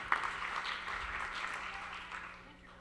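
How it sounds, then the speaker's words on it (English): Audience applause at a talk or presentation event, a steady wash of clapping that holds fairly even and then gradually thins out over about three seconds, heard at a moderate distance. "Give a round of applause for Colin, Tenacious Ventures, Splash."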